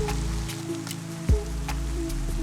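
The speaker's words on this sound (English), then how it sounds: "now it's hailing" Hail falls on a hiking trail in Colorado, pattering steadily against surfaces in dense, close, moderately loud bursts over a low hum, with no voices.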